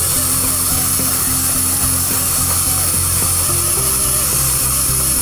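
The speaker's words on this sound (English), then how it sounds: "Composite polishing." Rotary handpiece polishing an SDI Aura microfill dental composite filling, a steady high-pitched whine with a low hum beneath, running continuously and close with no pauses.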